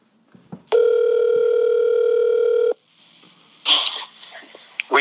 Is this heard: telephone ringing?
yes